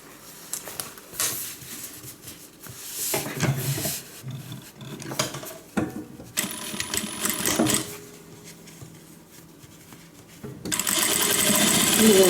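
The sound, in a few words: sewing machine stitching side seam of guitar handbag pocket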